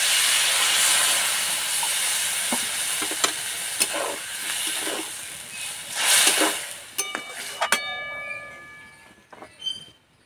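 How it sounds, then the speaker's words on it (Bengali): Water poured into a pan of cooking drumstick stems with pointed gourd for a Bengali chorchori, a loud steady sizzle and steam hiss that gradually fades, with scattered clinks of stirring near the end. "এবার সিদ্ধ হওয়ার জন্য জল দিয়ে দেবো।"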